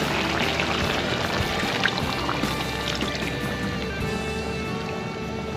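Coconut milk is poured into a chicken curry, a steady, close liquid pour that runs continuously without a break.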